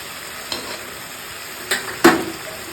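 Spices with turmeric, cumin, chili and salt sizzle in oil with onion paste, a steady low frying hiss broken by a few sharp stirring scrapes near the end.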